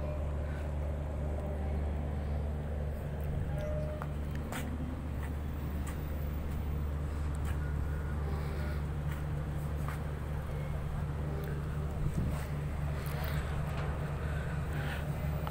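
Speedboat moving along a river near Sibu after a morning high tide, a steady low engine drone and water rush that stays constant throughout, with faint knocks and splashes on top.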